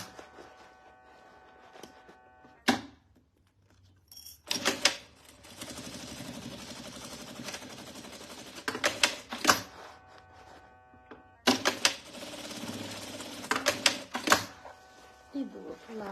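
A sewing machine stitches a crossbody bag in bursts of rapid mechanical whirring, loud and close, separated by quiet pauses, with a few clicks and handling sounds and someone talking softly in between.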